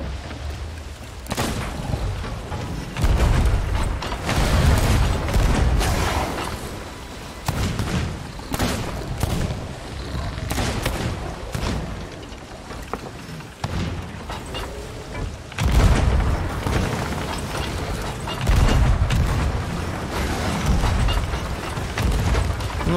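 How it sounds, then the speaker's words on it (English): Repeated heavy booms and thuds of cannon fire in the game Sea of Thieves go off in bursts throughout, loud and close with a rumbling low end. "I'm the worst cannon shot of all time."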